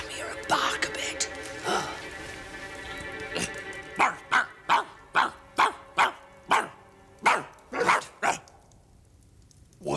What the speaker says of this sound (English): Come here and bark a bit.